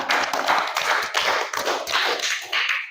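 Classroom clapping during an Indonesian language lesson: quick, rhythmic bursts of hands striking together in a steady patterned beat, fairly close and loud, continuing for a few seconds with no talk over it.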